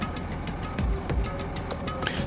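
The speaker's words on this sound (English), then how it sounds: "First thing I noticed was the roaring engine of a nearby truck." A truck engine rumbles steadily nearby in Danganronpa 2, a low mid-range drone with a few heavier thuds mixed in, heard alone without voices.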